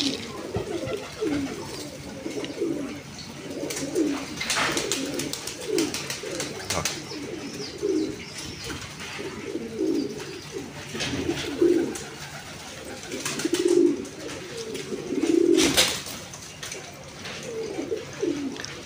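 Pigeons coo repeatedly in a loft, soft rolling calls overlapping close by and continuing steadily throughout with small bursts of rustling.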